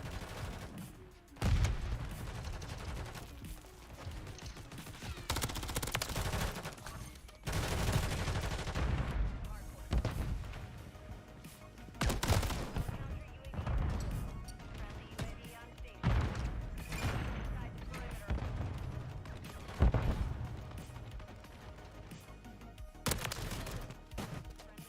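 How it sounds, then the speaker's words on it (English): Shotgun blasts and other gunfire from a Call of Duty match ring out in dense, repeated bursts, loud and close, over game noise, with a voice talking intermittently. "shotguns are crazy"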